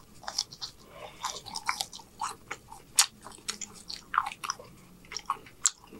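Someone bites and chews a piece of bacon at a homemade breakfast, close to the microphone, with crisp irregular crunches and wet chewing sounds repeating steadily for several seconds and no talking.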